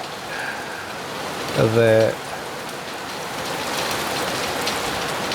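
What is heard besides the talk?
rain storm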